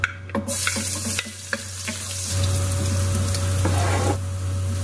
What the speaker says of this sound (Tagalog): At ilalagay na natin yung ating bawang dahil nga naman ay mainit na yung ating mantika